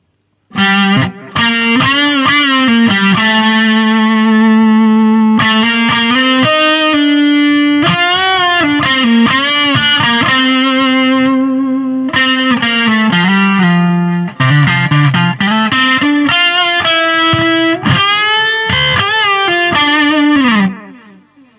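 Electric guitar lead with overdrive through a 500 ms delay and a light parallel reverb: sustained bent notes and fast runs, loud and close, with echoes trailing each phrase and no voices.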